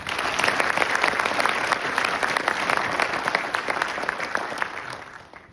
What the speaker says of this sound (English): Please join me in a round of applause for the supporter awardees.